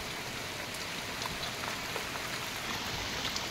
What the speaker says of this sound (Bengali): কন্টিনিউ এইভাবে বৃষ্টি হচ্ছে